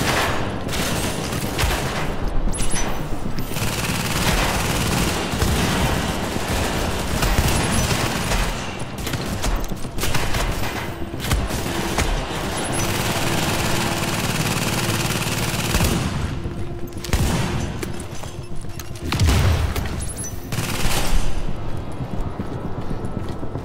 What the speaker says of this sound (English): I'm going to want to deploy my turret.